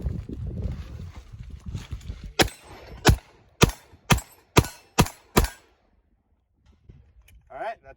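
Remington Rand 1911 pistol made in 1943 fires seven rounds, sharp loud cracks spaced about half a second apart, following a stretch of low rumbling noise and trailing off into quiet.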